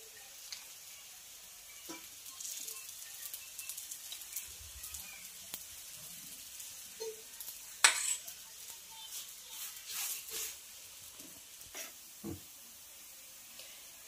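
Aloo paratha roasting on its second side in a pan, giving a faint, steady sizzle with occasional soft scrapes and clicks of a utensil, no talking.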